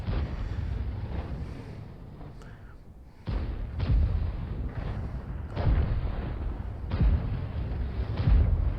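Skoda T27 tank cannon shots in a video game battle on Ensk, several heavy booming blasts at irregular intervals over a low rumbling, windy background, with brief talk layered in.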